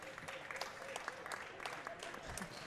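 Applause and cheering from a crowd at a 2017 World Racquetball Tour professional semifinal in Denver, breaking out after a rally. It is steady, dense clapping that fills the whole moment, with a voice faintly underneath.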